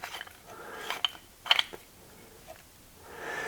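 Barrel being screwed onto a Mateba 6 Unica autorevolver, a few close, light metallic clicks and scrapes of threaded parts turning, spaced irregularly with quiet gaps between them.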